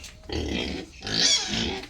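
A young local-breed pig on a farm gives two grunting, squealing snorts in quick succession, close and fairly loud, with no talk.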